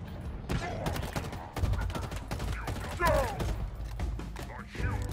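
Assault rifle fire in Halo Infinite, rapid bursts of close shots with sharp repeated cracks in clusters, mixed with other combat noises and a low rumble.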